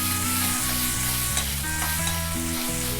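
Chopped onions with ginger and garlic sizzle and fry in a pan while being stirred, a close, continuous crackling with scraping stirring strokes and no talk.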